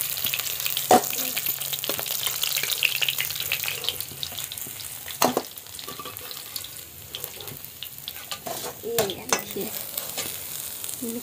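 Fish frying in a pan for a masala fish curry, a steady close sizzle with scattered spatters and occasional clinks and stirring, alone with no voices.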